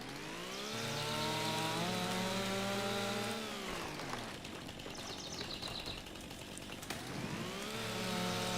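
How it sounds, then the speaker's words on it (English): Chainsaw cutting trees in Farming Simulator 25: a loud engine revs up and holds a high whine while biting through wood, drops to an idle, then revs up again, with no talking. "At least this job will pay for the chainsaw that we just bought."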